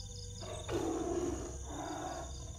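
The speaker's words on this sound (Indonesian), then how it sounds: "Seperti suara harimau Mas Epi." A tiger roars in a forest, a deep, rumbling growl that swells and fades in two long, fairly close pulses over a dense background hum, with no talking.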